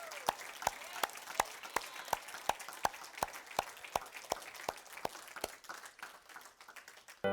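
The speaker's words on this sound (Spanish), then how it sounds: "Demos una ofrenda de palmas al Señor" A church congregation claps in praise to the Lord, crisp rhythmic hand claps in an even, evenly spaced beat, fairly close and alone, fading slightly toward the end.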